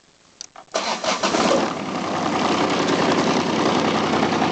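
A Kubota GF1800 hydrostatic lawn mower engine cranks with a few short bursts, then catches and settles into a steady, loud, close idle that runs to the end without talk.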